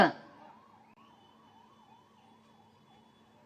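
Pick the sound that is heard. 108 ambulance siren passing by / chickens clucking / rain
108 ambulance siren passing by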